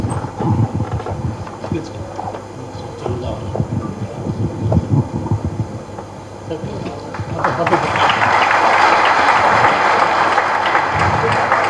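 At Ilaiyaraaja's 80th birthday celebration, someone speaks over a hall's low murmur, then the audience breaks into loud, steady applause that carries on to the end.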